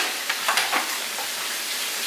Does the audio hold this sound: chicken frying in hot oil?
yes